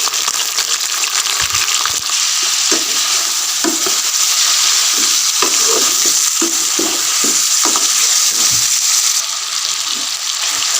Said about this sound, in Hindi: अब चिकन को थोड़ा सा ब्राउन करेंगे।